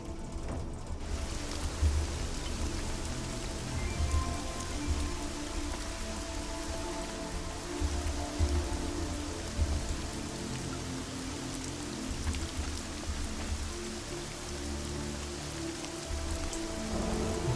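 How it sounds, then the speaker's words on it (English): Steady rain in the video game Deus Ex: Mankind Divided pattering on surfaces, a continuous dense hiss with low rumbling underneath, constant and fairly loud throughout. "Rain effect's kind of cool."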